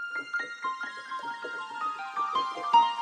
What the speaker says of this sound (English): Upper two, if I click it, super sweep,